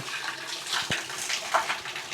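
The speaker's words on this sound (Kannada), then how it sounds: "ಇಲ್ಲಿಂದನೇ ನೀರು ಬರ್ತಾ ಇರೋದು" Spring water pours steadily from a spout at Antaragange hill, a close, continuous splashing with small gurgles and no voices.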